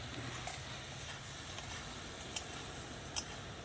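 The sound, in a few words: green chilies sizzling while frying with lamb karahi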